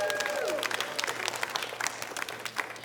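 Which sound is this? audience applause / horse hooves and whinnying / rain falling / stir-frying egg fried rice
audience applause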